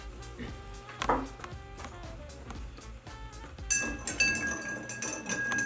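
Ice clinking and rattling against a mixing glass as a Martinez cocktail with Boker's bitters is stirred, a quick run of close, bright taps and jingles that grows busier toward the end, with no talking.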